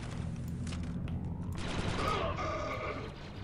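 Rapid gunfire from a shooter video game, a dense burst of overlapping shots and mechanical clatter at moderate loudness, with a sweeping whoosh partway through.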